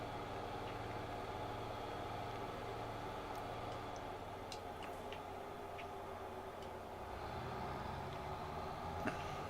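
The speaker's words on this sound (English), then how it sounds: "Now I'm hoping that the engine sounds ain't too loud." A low, steady engine idle hums throughout in a video game, with faint ticking and occasional light clicks over the drone.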